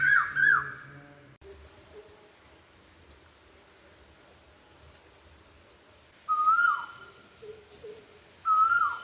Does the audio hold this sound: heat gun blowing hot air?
no